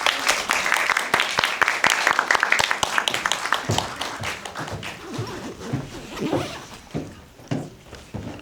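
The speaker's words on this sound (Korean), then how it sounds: "큰 박수 한번 부탁드리겠습니다" Applause from the audience at a Korean film screening Q&A as the director and actors come forward, sharp clapping for the first few seconds, then thinning into scattered claps, footsteps and shuffling with faint voices.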